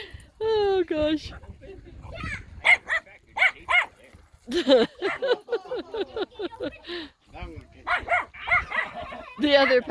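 Puppies let out a string of high yips, whimpers and short barks in quick irregular bursts, mixed with people talking nearby.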